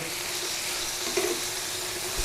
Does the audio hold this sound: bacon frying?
yes